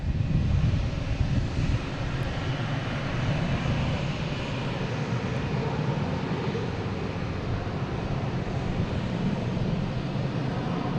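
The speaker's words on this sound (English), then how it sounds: "We have Aeromexico coming in." An Aeromexico airliner in from Mexico City arrives at Boston Logan International Airport, its broad steady engine roar sustained throughout with some wind noise.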